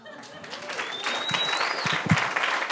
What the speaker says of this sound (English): you should give yourselves a gigantic round of applause